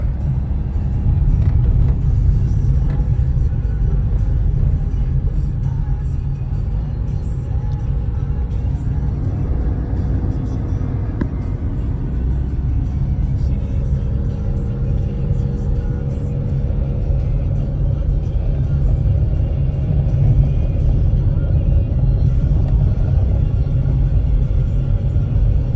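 A car on the move during a driving lesson gives a continuous low rumble and road drone, loud and steady throughout with no voices.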